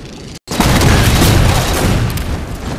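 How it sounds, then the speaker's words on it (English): Grenade blasts from grenade spam in Halo 4 on the Adrift map, a loud booming burst after a brief dropout, then sustained rumbling explosive noise close by. "that guy just got grenades spam"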